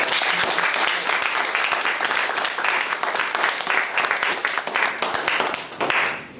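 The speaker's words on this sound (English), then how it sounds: "please join me in a round of applause for Brett" Dense, steady applause from an audience at a convention Q&A panel, many hands clapping together at close range for several seconds before tapering off at the end.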